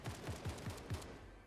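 Rapid turret gunfire in the Fortnite video game, five or six sharp low shots in a quick irregular burst, fairly faint and with no voices over it.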